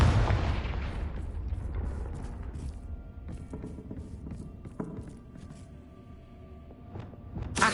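A loud, full-bodied blast from the Confringo spell in a Harry Potter video game bursts out at once and fades into a long rumbling tail, with a fresh burst at the very end.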